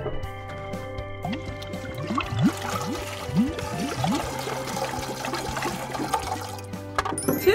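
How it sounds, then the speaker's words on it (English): Water poured to fill a container for a sink-or-float experiment, a continuous trickling and splashing pour with rising tones as the vessel fills, heard close and alone. "Good thing I have a bunch of water. Let's fill it up."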